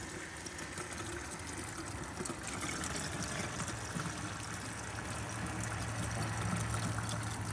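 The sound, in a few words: water draining from tank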